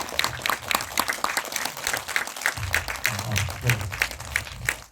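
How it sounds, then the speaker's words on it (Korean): Warm applause from a cinema audience welcoming a documentary film director to a post-screening audience talk, a dense steady clapping that fills the room for about five seconds with no voices over it. "감독과의 대화 나와서 뜨거운 박수 맞으십시오."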